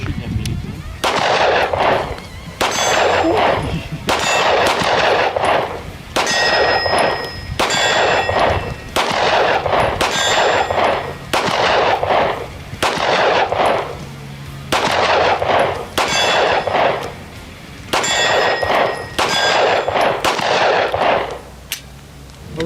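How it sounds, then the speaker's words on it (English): Shadow Systems MR918 pistol fired at an outdoor shooting range near Phoenix, with sharp, loud shots in an irregular string of about a dozen, some in quick pairs, echoing across the range with no talk. "we're back from shooting at the range"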